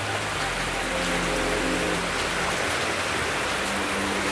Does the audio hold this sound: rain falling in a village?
yes